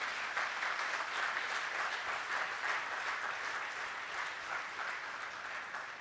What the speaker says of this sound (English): May I request each of you to give him a big, big round of applause and good wishes.